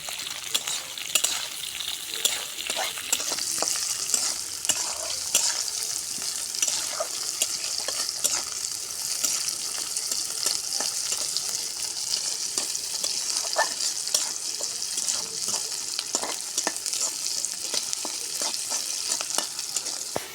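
Chopped onions fry in hot oil in a pan, a loud, steady sizzle with frequent scraping strokes of a spatula that run on close-up for the whole stretch, with no talking.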